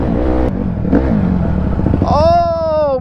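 A small Chinese pit bike engine revs on a dirt trail, a close buzzing drone that climbs sharply in pitch near the end, with someone talking excitedly over it.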